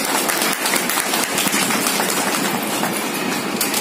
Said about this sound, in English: So let's all applause for them,